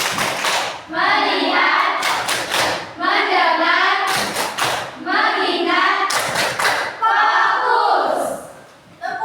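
A classroom of students performs the 'tepuk fokus' clapping chant, loud rhythmic bursts of claps alternating with chanted voices, close and energetic.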